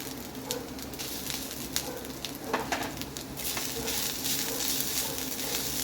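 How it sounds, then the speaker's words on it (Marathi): Goat liver with grated fresh coconut sautés in a pan for a Saraswat-style kaleji sukka, a steady close sizzle with scattered scraping stirs and faint bird calls in the background. "आता मी हे थोडं परतून घेणार आहे."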